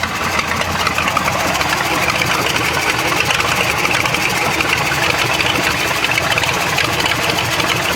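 A Chevy Impala's 406 V8 engine idles steadily at close range, a continuous rough mechanical rumble with a fast, even ticking pulse.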